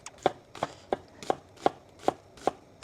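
Knife chopping onion into fine brunoise on a board, sharp evenly spaced thuds about three per second, close and clear with nothing else audible.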